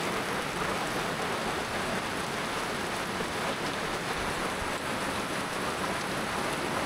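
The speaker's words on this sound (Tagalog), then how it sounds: "Napakalakas, biglang buhos po." Heavy rain pours down in a dense, steady hiss and patter on surfaces, loud and continuous with no voices.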